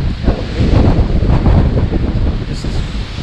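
Strong gusts of 70-plus mph roar across the exposed summit of Guadalupe Peak, buffeting the microphone in a loud, continuous rumble that surges and eases without letup.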